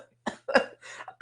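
A person coughs in a quick series of three or four dry, close bursts, ending with one more sudden hack.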